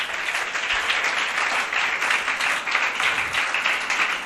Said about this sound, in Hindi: तो जरा ताली बजाओ